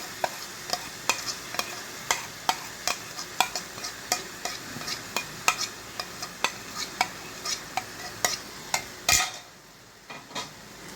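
A spoon stirs carrot, raisins and nuts in a pan for laddu sweets, knocking the pan in a steady rhythm of sharp scraping clacks over a soft sizzle, then the stirring stops near the end.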